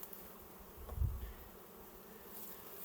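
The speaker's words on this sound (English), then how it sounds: "I've got a container here that I'm going to shake the bees into." Honey bees are shaken from a hive frame into a container, giving a soft, steady buzz with a brief low thump and swell partway through.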